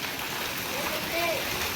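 Rain falling over an open farm field makes a steady, dense hiss for the whole short stretch, with faint voice-like tones drifting in partway through.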